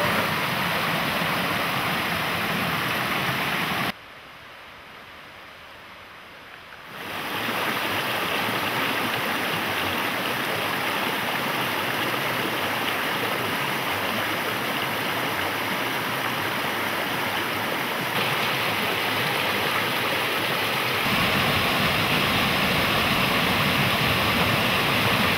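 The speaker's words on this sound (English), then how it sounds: "Along this creek is the Bald River" The Bald River creek flows through Cherokee National Forest wilderness as a steady, full rushing of water close by, briefly dropping to a softer hush for a few seconds before the strong continuous roar returns.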